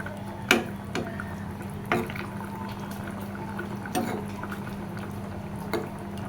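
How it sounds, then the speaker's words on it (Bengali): A pot of fish curry broth simmering on a stove, giving a soft, steady bubbling murmur broken by a few louder splashes and pops, heard close up with no talking. "খুব সুন্দর মতো ফুটে গেছে ঝোল।"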